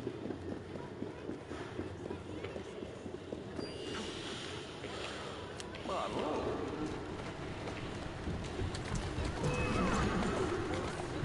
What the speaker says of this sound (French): C'est qui le bon cheval ?